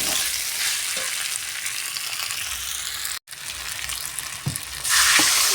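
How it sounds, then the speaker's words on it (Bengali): Fried potatoes and kundru (ivy gourd) sautéing in a pan, a loud continuous sizzle with scraping stirs, a momentary break partway through, then a brighter hiss as the frying intensifies near the end. "দেখো ভালো করে একটু কষিয়ে নেব"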